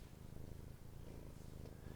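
A cat purrs softly and steadily up close, a low rhythmic rumble with no other sounds over it.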